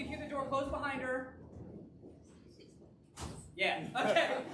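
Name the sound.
door closing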